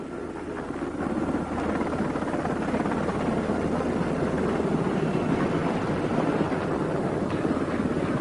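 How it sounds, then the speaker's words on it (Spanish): A military troop-carrying helicopter comes in to land, its heavy rotor thrum and turbine roar rising after the first second and then staying loud and steady, with wind buffeting throughout and no voices. "Las tropas en helicóptero, al contrario que los paracaidistas, aterrizaban con suavidad. El helicóptero llevaba sus equipos y regresaba."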